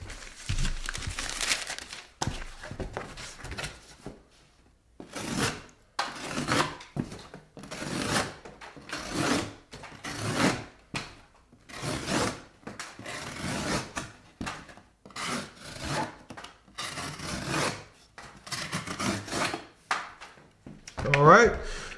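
A CV Case Tribal Lock knife blade slicing through cardboard in repeated long strokes, each a rough ripping scrape with brief pauses between, close and loud, with someone speaking in places.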